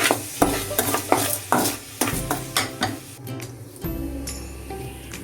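Rock salt is stirred into leftover curry in a pan, a spoon scraping and knocking in uneven strokes over a soft sizzle, close and moderately loud.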